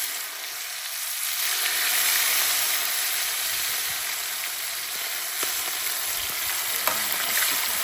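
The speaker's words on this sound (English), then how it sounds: "3 more pieces to fry." Escovitch fish pieces, cooked without flour, fry in hot oil outdoors in Jamaica, giving a steady, continuous sizzle and crackle at moderate loudness for several seconds, with no talking.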